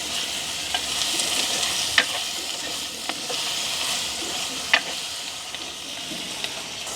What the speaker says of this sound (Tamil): தக்காளி பழம் எங்களுக்கு வதங்கிட்டுது